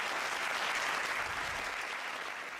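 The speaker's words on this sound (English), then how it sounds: "Hit the applause button for Drew." Canned applause sound effect triggered from a button, a dense burst of clapping that runs steadily for a couple of seconds and then tapers slightly, with no voices over it.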